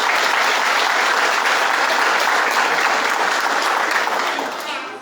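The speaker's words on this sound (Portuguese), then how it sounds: "Vamos receber ele com carinho, aplaudindo ao Senhor" A church congregation applauds during an evening missions service, filling the room with dense, steady clapping for the full stretch before it thins slightly toward the end.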